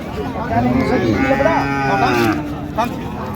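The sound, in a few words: cow mooing at cattle market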